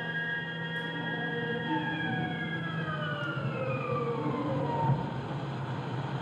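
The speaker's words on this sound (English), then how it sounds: "we've got the air raid siren." An air raid siren wails with rising and falling tones, sweeping steadily through the whole stretch at a loud, sustained level over a rumbling background, part of a performance piece on interwar British radical music.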